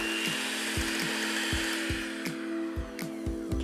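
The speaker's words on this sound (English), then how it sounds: "I'll just give that one last whisk before we start adding in our dry ingredients" Gingerbread cake batter with treacle is whisked by hand in a bowl, a quick regular series of close scraping knocks over a steady background hum.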